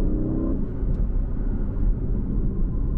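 Aston Martin Vantage F1 Edition engine and exhaust, fitted with an English exhaust, idling close by in a steady, deep, continuous rumble with no voices over it.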